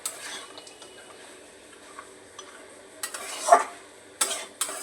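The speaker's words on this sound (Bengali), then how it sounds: "বড়িগুলি দিয়ে আবার একটু নাড়াচাড়া করে নিই" A cauliflower stem curry with lentil dumplings is stirred in a pan, with a spoon scraping and clinking against the metal over a soft sizzle, close up, with a few sharper knocks and no speech.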